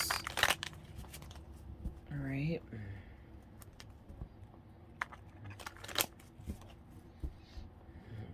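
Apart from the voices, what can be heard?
tarot cards being shuffled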